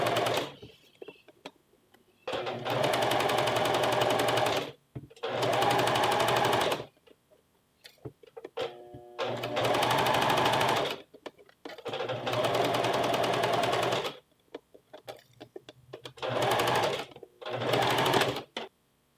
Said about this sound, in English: Make sure that the rough edges stay on top of each other and sew all the way to the end.